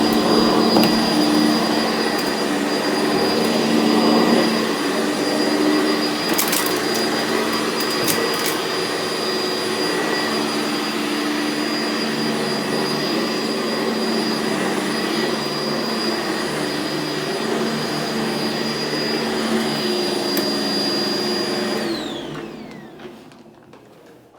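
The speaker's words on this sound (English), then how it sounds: "in today's episode, we'll start with a little pre-vacuum" A vacuum cleaner roars steadily at close range for a long stretch, a constant whining drone that winds down as the motor switches off at the end.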